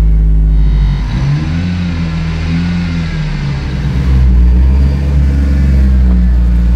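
A Toyota Land Cruiser 80 Series truck engine runs steadily on its first drive, a loud, continuous low rumble with gradual rises and falls in revs, close by and with no talking.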